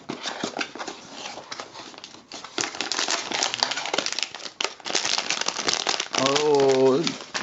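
A cardboard subscription box is slit open with a Case pocket knife, giving close crinkling and scraping cuts in bursts, with someone talking at the end.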